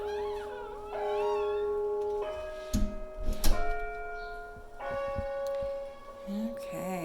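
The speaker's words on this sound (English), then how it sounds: "I'm going to ring the doorbell, make sure that's working." A multi-tone chime rings out in sustained sequences, with a few sharp knocks in between, nearby and moderately loud in a quiet room.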